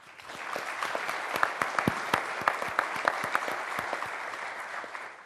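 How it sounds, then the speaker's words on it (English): Audience applause at a University of Texas at Austin event, a steady patter of many hands clapping with sharper individual claps, moderately close, no talk over it. "Big round of applause for George."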